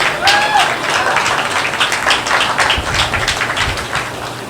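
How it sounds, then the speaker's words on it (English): Applause from a modest audience at a public meeting of a Texas cannabis-law reform group, fairly loud and uneven, with scattered claps, some crowd murmur and a brief whoop. "Give yourself a round of applause as a patient"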